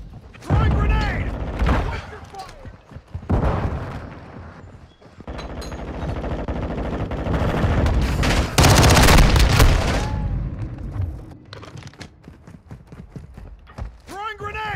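Modern Warfare 2 combat on PS5: gunfire crackles throughout, and a grenade explosion hits as a loud burst near the middle. In-game soldier voices call out over the battle.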